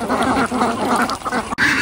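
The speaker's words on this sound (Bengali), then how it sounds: "হাঁসগুলো সব উঠে চলে আসছে।" A flock of more than a hundred ducks crowds in to be fed small fish caught from a pond, filling the air with loud, dense, overlapping quacking close by and no talking.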